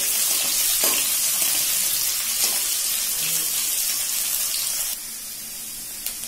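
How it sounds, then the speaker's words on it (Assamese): Onion, green chili and garlic sizzle steadily in a hot pan, a loud continuous hiss with small crackles and a brief clink partway through. "এয়া আমাৰ পিঁয়াজ জলকীয়া নহৰু ভাজা হৈ গৈছে"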